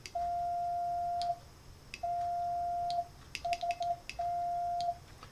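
A steady electronic Morse sidetone from iambic paddles, played through a Raspberry Pi's analog sound output, keys on and off in long and short beeps, with faint clicks and a low hum behind it.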